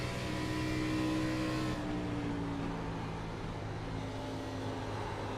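A stock car engine roars continuously in a Xfinity Series racing video game at Pocono, loud and close, with the steady engine drone shifting in pitch partway through as the car drives through a corner.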